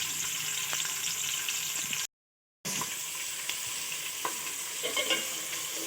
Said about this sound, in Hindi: प्याज हमारी फ्राई हो रही है